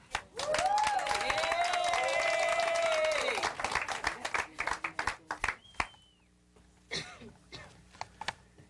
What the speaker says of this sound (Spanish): Que se oiga el aplauso.